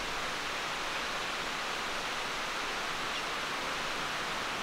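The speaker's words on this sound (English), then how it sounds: "We sort of found the waterfall." A small waterfall at the very head of a remote island valley gives a steady, broadband rush of falling water, constant and fairly loud, with no voices.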